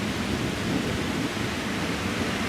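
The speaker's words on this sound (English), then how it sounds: "so you can hear our thunder" Thunder rumbling during a morning rain, a steady broad wash of rainfall and low rolling rumble, fairly loud and constant with no voices.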